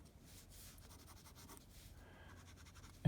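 A pen nib scratches across paper in short, quiet strokes, a faint, close, irregular scratching rhythm in an otherwise quiet room.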